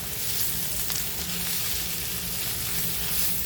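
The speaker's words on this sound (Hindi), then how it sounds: "अभी भिंडी को धीमी आंच पे पकाएंगे 10 मिनट तक" Okra cooks in a pan over low heat, giving a soft, steady sizzle and frying crackle that carries on without a break.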